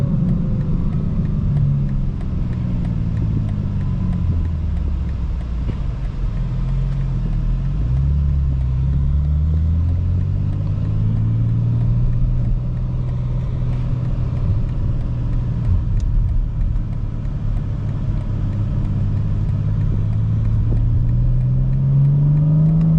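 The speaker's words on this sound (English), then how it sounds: "the BMW obviously has the exhaust noise that gets piped in, and it's currently on." A 2025 BMW M4 CS drones steadily from inside the cabin with its piped-in exhaust sound switched on, the engine note rising and falling in pitch as the car accelerates and eases off. No one speaks.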